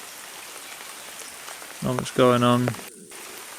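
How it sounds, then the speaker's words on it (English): Steady rain falls in the bush, a soft constant patter throughout, with a brief stretch of someone talking over it. "So the rain's back, feeling a bit set in now."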